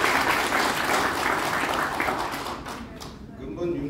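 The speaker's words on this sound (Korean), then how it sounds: "뜨거운 박수로 다시 한번 축하드립니다" An audience at a ceremony celebrating a new president's inauguration applauds: dense, loud clapping from a crowd that swells and then thins out toward the end, with a voice coming in over the fading applause.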